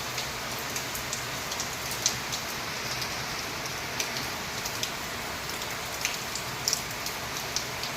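Heavy rain pours down in Bhubaneswar, a steady dense hiss of falling water with scattered sharper drop hits on nearby surfaces, continuous and without any talking.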